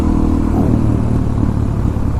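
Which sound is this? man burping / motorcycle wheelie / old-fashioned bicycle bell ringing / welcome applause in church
motorcycle wheelie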